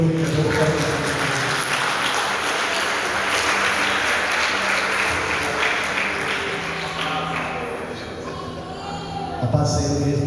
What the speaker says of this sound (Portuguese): Dê uma salva de palmas e glorifique a Deus.